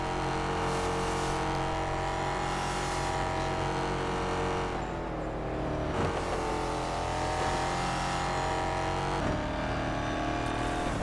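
Several race car engines from the racing game ExoCross drone steadily throughout, loud and continuous with shifting revs as cars pass and accelerate in a championship race.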